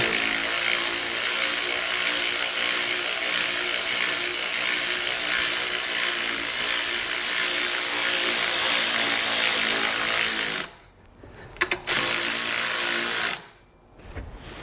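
A power tool tightens a bolt on a Subaru 2.5 EJ25 boxer engine during timing belt and water pump work, a loud continuous whirring drone for about ten seconds, then two short bursts separated by brief pauses.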